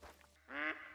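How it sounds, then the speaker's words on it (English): A duck in the hunting game theHunter: Call of the Wild, set in New Zealand, gives a single short nasal quack, close and clear after a near-silent moment. "It never stops quacking here in New Zealand."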